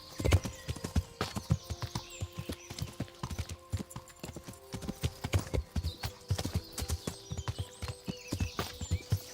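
Rhythmic clip-clop of horse hooves at a walk in the video game Kingdom Come: Deliverance, close and distinct, with a brief whinny near the start and no speech.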